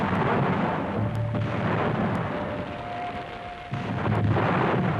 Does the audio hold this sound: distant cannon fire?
yes